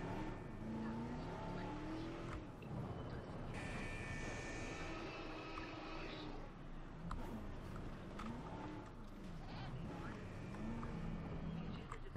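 Vehicle driven in the video game Jurassic World Evolution, a steady engine hum and drone running throughout with shifting tones, over continuous game ambience and music.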